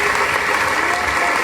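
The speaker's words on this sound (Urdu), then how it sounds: "بھرپور تالیاں بجائیں تاکہ آپ کی موجودگی کا احساس ہو" Dense, steady crowd applause at an election campaign gathering in Wapda Town, Gujranwala, loud and continuous throughout with no break in the clapping.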